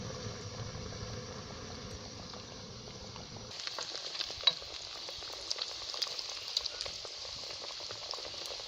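Chicken nuggets frying in oil over medium heat, a soft bubbling crackle that shifts partway through into brighter, sparser popping and spitting, close and fairly quiet.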